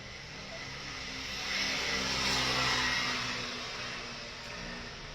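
An airplane sits on the ground while a man descends from it, its steady engine roar broad and continuous, swelling slightly midway and then easing, heard alone at moderate distance.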